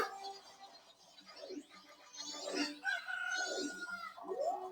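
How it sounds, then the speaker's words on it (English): Chicken clucking and crowing in the video game Zelda: Majora's Mask, several squawking, sliding calls in quick succession, fairly quiet and alone with no talk. "Chicken!"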